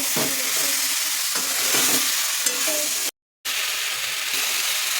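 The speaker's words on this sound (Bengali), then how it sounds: "এবার এই মশলাটা দিয়ে দেবো। আবারও ভালো করে কষিয়ে নেবো।" Spiced onion masala sizzles and is stirred in a pan with very little oil, a steady broadband fry with scraping strokes that cuts out briefly near the middle, no voices.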